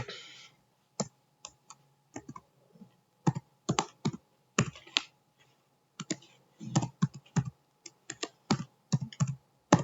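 Computer keyboard typing while building a medicine table for a hospital MySQL database in phpMyAdmin: irregular bursts of close, crisp key clicks with short pauses, no talking.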